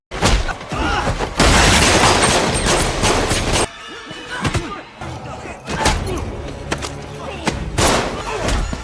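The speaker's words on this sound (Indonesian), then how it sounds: "Aksi tembak-menembak dan pertarungan jarak dekat yang intens" A movie shootout blasts out in loud, overlapping bursts of gunfire and heavy impacts, with brief lulls between volleys and dense action-film sound mixed underneath.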